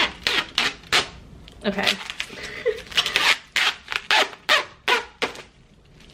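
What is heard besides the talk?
peeling protective film layer off a display stand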